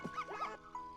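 Poochie Pup from the video game Yoshi's Crafted World giving a few short, bright cartoonish barks and yips, faint, over a soft game background tone.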